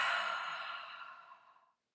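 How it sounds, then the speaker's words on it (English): A single deep breath, drawn out into a long, steady exhale that lasts nearly two seconds and fades into silence. It is close and soft, with no talking. "Let's take a nice deep breath."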